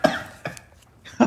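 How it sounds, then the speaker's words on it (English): Short coughs from a person mixing red liquid into a bottle, three quick bursts spaced apart, close and dry, with no talking. "it's kind of making me cough here"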